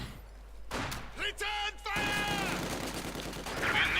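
Bursts of MG42 machine gun fire in the World War II strategy game Company of Heroes 2, loud battle sounds with gunfire and explosions stacked over one another and a commentator speaking over the mix.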